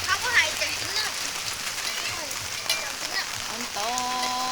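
Steady rain falls in Thailand, a dense, even hiss of drops on surfaces that continues throughout, with faint voices and a tonal sound rising near the end.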